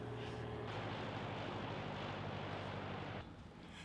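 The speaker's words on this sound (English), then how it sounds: "Here comes the airplane." A small airplane from a nearby airport fly-in passes over a ranch horse trail course, a loud, steady broadband roar that holds for about three seconds and then drops away.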